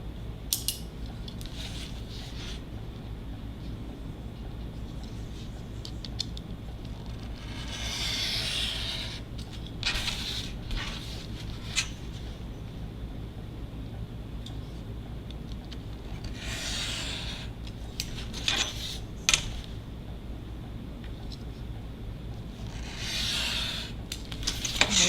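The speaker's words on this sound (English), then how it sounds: "now I'm going to take this ruler and use my X-Acto knife and cut out the square" An X-Acto knife drawn along a ruler to cut a square out of card, close up, with a quiet steady rubbing scrape and a few brighter scratchy strokes over a low constant background hum.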